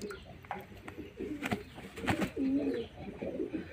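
Pigeons being held and bathed give soft cooing calls and brief flutters, faint and close, with intermittent small splashy rustles.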